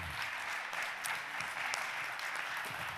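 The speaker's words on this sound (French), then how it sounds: "On applaudit Hélène très chaleureusement." Warm applause from an audience at an evening gathering honouring a host, steady, dense clapping for three seconds, quiet and somewhat distant, alone without talk.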